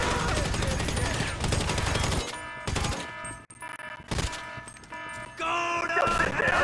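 Gunfire in Grand Theft Auto V: dense rapid bursts of shots with short pauses between volleys, mixed with game voices and tonal alarm sounds.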